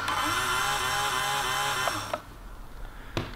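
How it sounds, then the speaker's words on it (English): A jet engine starter motor on a jet-powered skateboard spins up with a loud, close, rising whine while the fuel pump primes paraffin. The whine cuts off after about two seconds, leaving a few sharp clicks. "So that is the noise of the starter motor starting to go"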